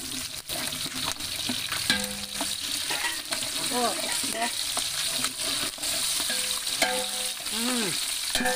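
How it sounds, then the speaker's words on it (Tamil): Onions frying for Madurai-style mutton biryani on a wood stove, a close, steady sizzle with clinks and scrapes of stirring throughout, no talking. "இப்போ பாருங்கள், நல்லா வெங்காயம் செவக்க ஆரம்பிச்சிருச்சு."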